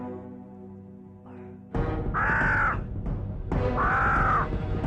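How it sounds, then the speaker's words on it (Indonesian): Two loud, harsh bird calls, each a drawn-out squawk lasting about a second, close by over a steady low hum. "Suara burung wit-wit"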